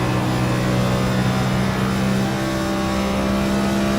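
A race car engine holding high revs on a racing-league track, a loud, steady droning whine in high gear with a constant tone and no break.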